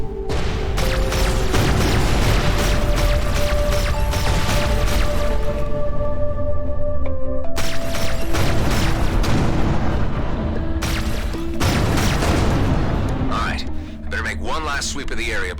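Explosions and deep booms in the space combat game Everspace 2 rumble over a dense, loud bed of synthetic tones and mechanical noise, with several heavy blasts breaking through the constant din.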